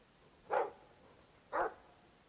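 A Mabari war hound in the video game Dragon Age 2 gives two sharp, single barks about a second apart. Both barks are close and distinct over quiet background, with no talking.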